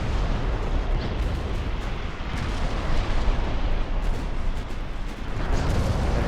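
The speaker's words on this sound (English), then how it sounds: "That's one torpedo hit." A torpedo strikes a warship in the naval strategy game Ultimate Admiral: Dreadnoughts, giving a dense, continuous explosive rumble with heavy low-end boom that holds steady throughout, with no voices.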